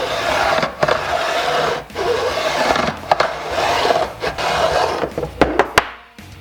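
A file scrapes back and forth along the fret ends of a Warmoth Strat guitar neck, producing repeated raspy strokes with brief pauses between passes, close and fairly loud.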